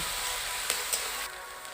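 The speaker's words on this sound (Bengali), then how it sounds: "পেঁয়াজটাকে আমি একটু লাল করে ভেজে নেব।" Onion paste frying in a pan for a Bengali fish curry gives a steady, soft sizzle throughout, with a couple of brief crackles partway in and no voices.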